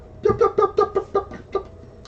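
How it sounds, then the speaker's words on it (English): A chicken clucks in a quick rhythmic run of about eight close, clear clucks, then falls quiet; no one talks. "A chicken."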